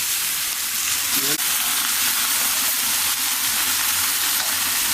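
Chicken frying in a large pot for biryani, a loud continuous sizzle and hiss with occasional stirring knocks, filling the whole stretch without speech.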